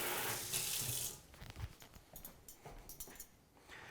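Water from a kitchen sink tap gushes loudly as a bowl is rinsed, then the flow cuts off and soft clatters of the bowl and wet handling follow, close by with no talk.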